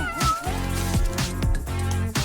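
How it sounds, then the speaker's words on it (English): A cat meows repeatedly, several short close meows in quick succession, loud and clear with no talking. "What's under here? A kitty?"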